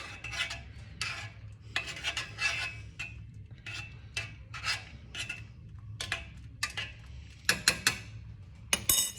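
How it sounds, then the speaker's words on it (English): Pasta noodles stirred in a cooking pot with a utensil, scraping and clinking strokes in irregular bursts, close and fairly clear with no talking. "So I'm gonna stir these noodles."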